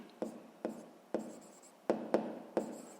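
Pen writing by hand during a sixth-grade maths exercise, with six sharp tapping strokes at irregular intervals over a faint scratching hiss, close and alone.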